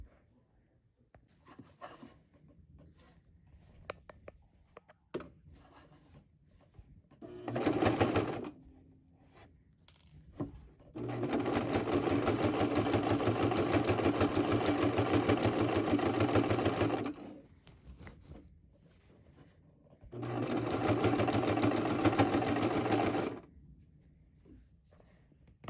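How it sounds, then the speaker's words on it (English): A sewing machine stitches bias tape around the perimeter of a casual work jacket's collar. There are three steady runs of motor hum, a short burst, a long stretch and a third, separated by quiet handling noises. "So I finished sewing the bias around the perimeter of the"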